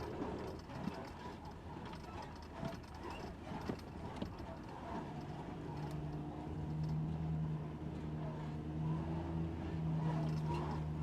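A truck rolling over a rough dune buggy trail near Slab City, with clattering and rattling bumps early, then a steady low engine drone that holds through to the end.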